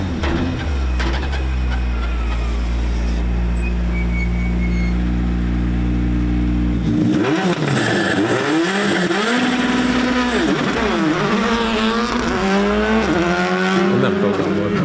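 A Skoda Fabia rally car engine runs at a steady, loud idle, then revs up and down repeatedly in sharp, close bursts, with voices briefly heard alongside.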